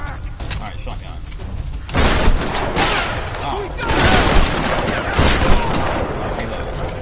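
Repeated shotgun blasts in the video game Tomb Raider, loud broadband bursts over continuous busy combat noise, with a person talking throughout.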